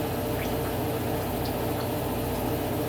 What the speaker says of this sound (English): So I'm going to put the tranny fluid stuff in.